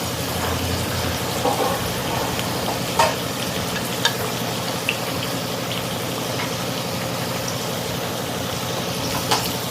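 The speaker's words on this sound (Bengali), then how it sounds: "জলটা ফুটছে, এবার আমি আলুগুলো দিয়ে দিচ্ছি একে একে" A pot of water boils at a full rolling bubble while stuffed potatoes are added one by one, a dense steady hiss of bubbling close by with a few faint clinks.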